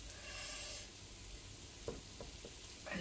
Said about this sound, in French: Je remue encore un peu mes oignons.